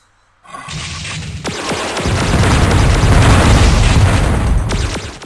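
Homing missile blasts in the video game Descent, on a Mars military base level: a sharp onset after brief silence, then a sustained roaring explosion wash with a couple of sharp cracks, loud and close, no voices.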